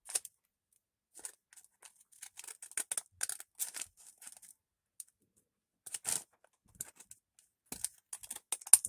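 Scissors snip through a paper journaling card in short, crisp bursts of close cuts, separated by brief quiet pauses, with no talking.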